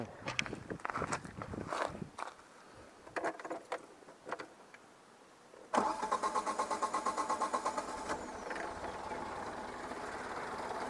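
Footsteps and light clatter, then a car's starter motor grinds in rapid, even pulses for a few seconds before the engine catches and runs on steadily.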